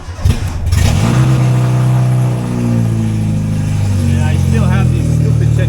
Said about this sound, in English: the car starts really nice, even though I don't have exhaust, so it's super loud.